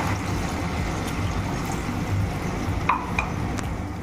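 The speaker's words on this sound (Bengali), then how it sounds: "জলটা ভালো মতন ফুটে আসছে" Water simmering with cooked-down spices in a pan for a vegetarian banana flower kofta curry, a steady low bubbling and hiss throughout with a couple of faint clinks near the end.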